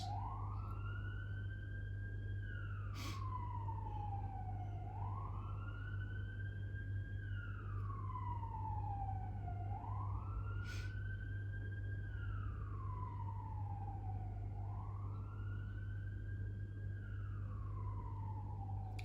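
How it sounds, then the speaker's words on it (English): An emergency vehicle siren passes outside, wailing up and down in slow, regular sweeps over a steady low hum, fairly faint and distant throughout, with no one speaking. "I'm gonna wait for the siren because I feel like it's overlapping what I'm saying"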